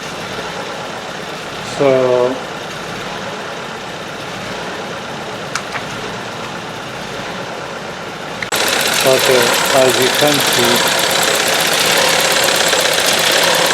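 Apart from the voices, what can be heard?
VW Golf Mk VII 1.4 TSI engine idling and shaking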